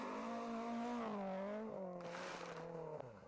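A race car engine drones steadily at high revs, its pitch sliding down and then rising again, heard alone and fairly faint with a scraping hiss near the end.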